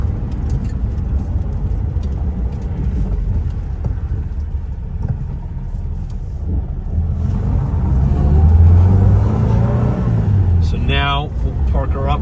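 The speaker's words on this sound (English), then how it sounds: "just really a nice growly, grunty little 4-cylinder. Such a pleasure to run through the gears as well" A 1973 BMW 2002 with a four-cylinder engine drives past, its growly exhaust rumbling steadily, then building into a louder rev and fading, with a voice talking over it.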